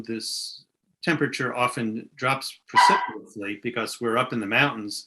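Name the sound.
puppies barking outside the door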